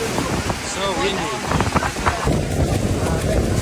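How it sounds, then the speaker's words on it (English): Strong wind blasts across the microphone aboard a tour boat at Niagara Falls, a constant roaring rumble over rushing water. Voices shout and talk underneath it. "Why so windy?"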